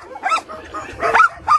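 A small dog at an animal shelter gives several quick, high yipping barks close by in a brief burst, with a little whimpering between them.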